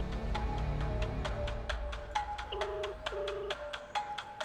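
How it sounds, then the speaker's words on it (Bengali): A phone ringing during a crime drama scene in a cafe, a repeating electronic ringtone with regular chirping pulses, moderately loud over a low background hum, with no talking. "রিং হচ্ছে।"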